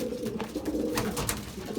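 Racing pigeons coo softly at their loft after returning from a 200 km old bird race, low throaty calls overlapping close by.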